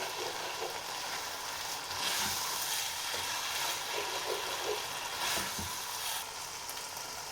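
Tomato paste sizzling in a pot as it is stirred for a meat and potato stew, with a steady loud hiss of frying throughout and faint scraping knocks from the spoon.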